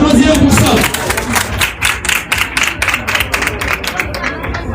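A crowd applauds at a public welcome event, with dense, steady clapping that begins under a loud voice and then continues alone for several seconds at close range.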